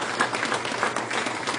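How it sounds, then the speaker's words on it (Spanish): Congregation at a church service applauding in praise, a brief steady wash of clapping from a crowd, moderately loud and continuous with no voices. "¿Cuántos le dan un aplauso al Señor?"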